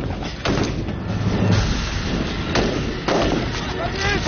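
Heavy gunfire during a nighttime military training assault on a bunker: loud, dense, continuous firing with repeated booming shots, harsh and close, with speech mixed in.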